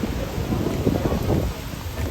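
Stormy wind blows across a cattle farm near Fateh Jang, Pakistan, making a steady, close, rumbling roar with gusty buffeting on the microphone and no clear voices.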